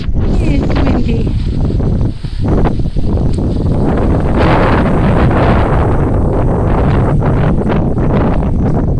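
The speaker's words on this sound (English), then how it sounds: "It's windy." Steady, loud wind buffets the microphone throughout an outdoor nature walk, a continuous roaring rush that briefly dips near the start before surging back.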